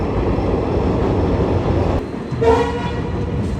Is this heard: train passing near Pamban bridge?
yes